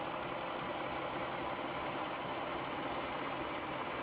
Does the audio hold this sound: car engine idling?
yes